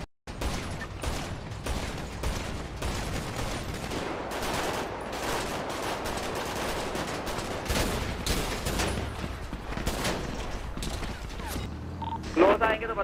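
Dense gunfire in a GTA roleplay game, with rapid overlapping bursts and mechanical clatter running throughout at steady volume, sometimes under voices talking.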